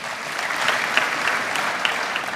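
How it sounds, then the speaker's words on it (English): Applause at a graduation ceremony in Gambia, a dense, steady wash of many hands clapping together at fairly close range, sustained evenly throughout with no talk over it. "A round of applause one more time"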